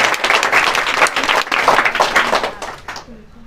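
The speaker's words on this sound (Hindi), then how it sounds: "एक बार फिर इनके लिए ताली दीजिए" An audience applauds for a student at a school award ceremony for class 12 pupils, with dense, loud, continuous clapping from a crowd that fades out near the end.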